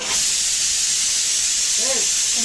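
A pressure cooker cooking dal vents steam in a loud, continuous hiss that holds steady from start to finish, with a brief low tonal sound near the end.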